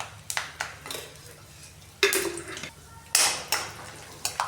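Peanuts being roasted in a pan for poha, with sharp metallic clinks and scrapes of a utensil against the pan in irregular bursts between quieter pauses.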